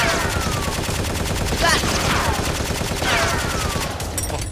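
Nerf guns firing in a staged Nerf war, rapid bursts of shots over a dense, noisy background with a couple of louder sweeping swishes, while voices are heard around them.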